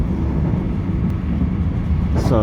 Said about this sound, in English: I'm sitting on the train now.